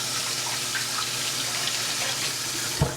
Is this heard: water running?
yes